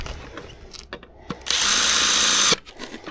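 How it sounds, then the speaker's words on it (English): A power drill whirs loudly for about a second in one steady burst, drilling a hole into a wall, preceded and followed by light clicks and handling noises. "Let's drill this in."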